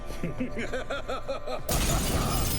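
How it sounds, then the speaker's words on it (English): Mirror glass shattering in The Witcher 3: Hearts of Stone, a sudden loud burst of breaking glass cutting in midway after a stretch of rhythmic warbling music, then a dense crashing wash that holds to the end. "Gotta be some mirror here you won't shatter."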